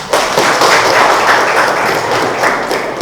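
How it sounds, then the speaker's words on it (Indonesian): A group of students applauds in a classroom, with a burst of bright, close clapping that runs steadily and loudly before tapering slightly at the end. "Pertama kita kasih tepuk tangan buat kelompok"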